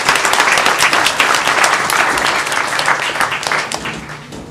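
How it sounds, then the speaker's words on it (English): Audience applause at a social media breakfast hosted at Melrose Place: a dense, steady round of clapping from a room full of people that holds strong throughout, then tapers slightly at the end. "I would really like to thank Melrose Place for hosting the social media breakfast, for providing the space, and as well as the breakfast. So I would like to give a round of applause for"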